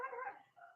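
A single short, faint dog bark trailing into a whine, heard alone in a quiet indoor space.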